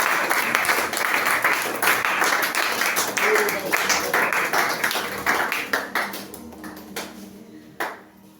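Congregation at a church worship service applauding and clapping to acclaim God, a dense continuous roar of hands with mixed voices, tapering into scattered claps and a few final sharp claps near the end.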